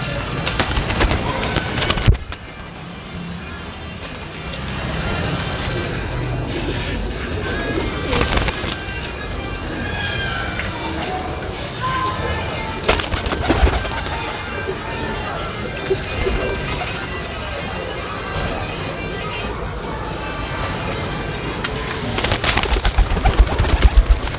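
Pigeons coo among the flock while people talk nearby, with occasional clattering and fluttering bursts over a steady busy background.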